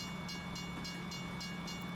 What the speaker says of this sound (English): this is a long train, and I don't even have the long train script in